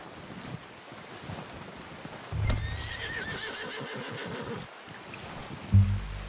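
A horse in a video game (Red Dead Redemption) whinnies loudly in the middle, its hooves clip-clopping steadily beneath a soft wind, then a thud near the end.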